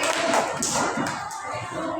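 Pupils in an Indonesian-language classroom applaud a student group, with scattered claps and a few desk thumps sounding close by in a lively burst.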